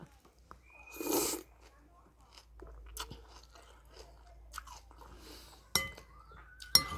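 Close, crunchy chewing and biting on soft pork bone soup, irregular crunches and wet mouth sounds with occasional clinks of a bowl, fairly quiet overall.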